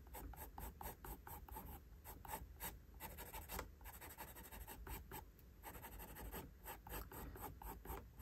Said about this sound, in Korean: 이 아래로 두 개의 선을 그려줄게요.